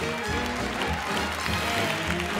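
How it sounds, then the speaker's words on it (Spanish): A television show audience applauds for a slingshot pellet-shooting demonstration, dense clapping mixed with music and some low rumbling underneath. "vamos a darle un fuerte aplauso"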